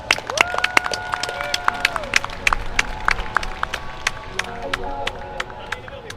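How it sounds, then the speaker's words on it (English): Crowd applause with whistles and cheers at a Hawaiian gathering, following an introduction of a woman named Maka Gallinger; dense sharp claps fill the clip, with sustained whistle tones early on and scattered shouts from the crowd. "please give a round of applause for Maka Gallinger"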